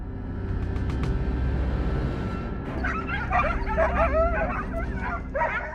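Hunting dogs on a wild boar hunt, near, a burst of excited yips, whimpers and barks in the later half over a rumbling background of engine-like noise.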